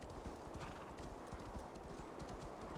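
A horse gallops with quick, steady clip-clop hoofbeats in the Assassin's Creed Valhalla video game, faint and continuous across snowy ground.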